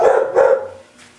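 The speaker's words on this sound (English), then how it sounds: "I'm sorry about the dogs" Several dogs bark in two loud bursts close by, with a quieter yip trailing off at the end, no talking over them.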